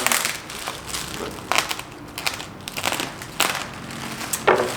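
Bubble wrap crinkles and crackles in irregular bursts of handling, close and moderately loud, with scattered popping crunches, while playing cards are unboxed.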